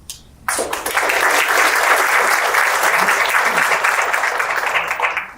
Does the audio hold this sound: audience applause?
yes